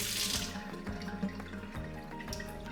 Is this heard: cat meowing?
no